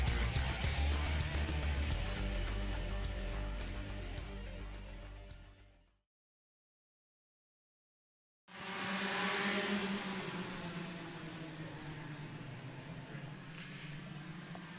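Karts in the U.S. Pro Kart Series semi-pro division race at Mooresville under the green flag. Their engines make a loud, dense, continuous roar that drops out for about two seconds, then comes back at full strength.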